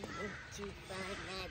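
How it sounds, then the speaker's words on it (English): Birds, crows among them, caw repeatedly outdoors, several calls in quick succession, fairly close and loud. "all the birds are making lots of noise"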